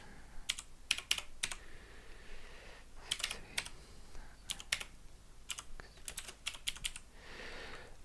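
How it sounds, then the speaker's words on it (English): Typing on a computer keyboard in bursts of quick, close key clicks separated by brief pauses, fairly quiet with no talking. "let's just type it down"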